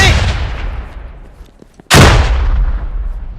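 A grenade bursts close by during a military drill with a sudden loud boom, and the blast rumbles away slowly after the earlier rolling gunfire dies down.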